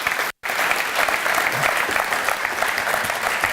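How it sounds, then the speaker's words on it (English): A church or event audience claps, a dense burst of loud clapping that cuts out for a split second and then resumes, steady and close, with faint voices mixed in. "Y'all clap your hands for Caden."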